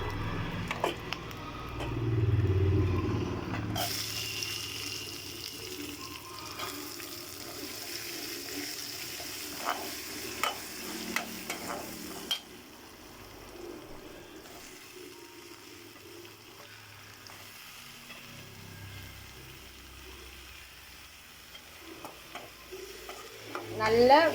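Onion and tomato sautéing in a pan for chickpea curry, with soft sizzling and repeated scraping stirs of a spoon against the pan, close and moderately quiet, with a louder stir at the start and end.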